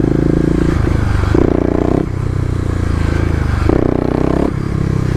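A 2018 Kawasaki KLX250 dirt bike in second gear, ridden off-road through the city, drones loud and steady. The engine surges into two sharp revs partway through.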